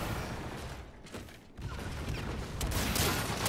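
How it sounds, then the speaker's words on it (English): Rapid automatic fire from a Type 2 gun in a shooter video game rattles on in dense bursts, briefly dipping before resuming and swelling louder toward the end. "I'm just shooting the fuck out of him. The Type 2 needs some fucking recoil,"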